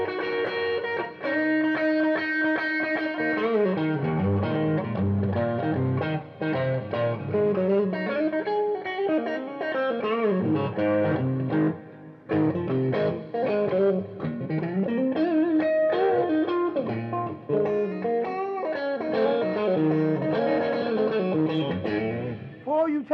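Electric guitar with a gritty overdriven tone through a boutique Mezzabarba tube amp, chords and riffs playing steadily and loudly for the whole stretch, no voices over it.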